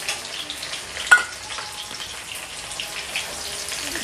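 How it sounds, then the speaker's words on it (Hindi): Garlic and ginger frying lightly in oil in a wok, a soft, even crackling sizzle with one brief clink of a utensil, and no voices. "सबसे पहले लहसुन को, अदरक को थोड़ा हल्का सा फ्राई कर लेंगे।"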